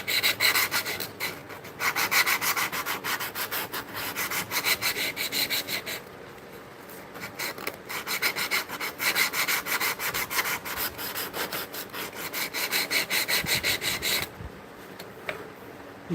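A hole in a large burl wood slab is cleaned up by hand, giving close, steady rasping and rubbing strokes in quick rhythm that pause briefly twice, then resume.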